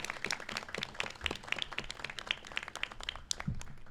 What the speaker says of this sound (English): Let's give everybody a round of applause for all of this hard work.